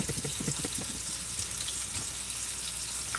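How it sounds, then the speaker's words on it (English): Tap water runs steadily over a tin can at a kitchen sink while a meal is being cooked, a close, continuous splashing rush with no talking. "I like to wash my cans before I open them. So I'm gonna wash this off a bit"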